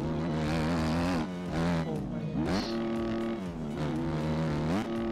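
Ken Roczen's Suzuki dirt bike in the MX Bikes video game, its engine revving loud and continuous with pitch climbing and dropping through repeated throttle bursts and shifts, close and dominant throughout.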